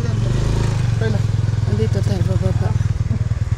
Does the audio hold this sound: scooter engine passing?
yes